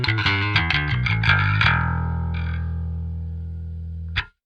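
A processed instrument run through the Parallax X plugin at maximum distance: a quick series of plucked chord stabs gives way to a long, sustained, washed-out tail that slowly fades, with a final short stab at the end.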